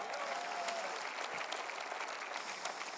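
Congregation applause fills a church during a Christmas celebration service with choir, a steady dense wash of many hands clapping throughout, fairly distant and even, with no one speaking over it.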